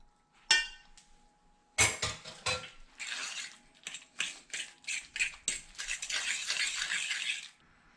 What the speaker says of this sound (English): Then we'll start mixing all this together.